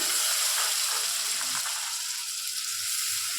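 A masala of chopped onion, chili paste and ginger paste fries in a pan with a continuous, close hissing sizzle that stays even from start to finish, with no voices.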